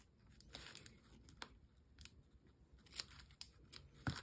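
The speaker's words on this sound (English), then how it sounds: "And we just cut off what we need." Scissors snip through gift wrapping material for Christmas hot chocolate gifts: a handful of short, sharp cutting strokes spaced irregularly over a few seconds, close and fairly quiet, with soft paper rustles between them.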